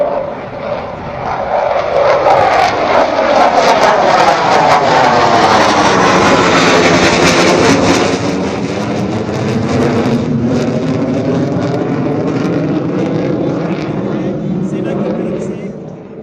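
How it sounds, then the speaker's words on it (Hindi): Indian Air Force fighter jets roar low over the Ganga Expressway during an airpower display, a loud, sweeping jet-engine thunder that swells and shifts in pitch as the aircraft pass overhead, then lingers as a sustained rumble. "और ये जब गरज रहे हैं हमारे लड़ाकू विमान, तो सीमा पार तक इसकी आवाज जरूर सुनाई दे रही होगी।"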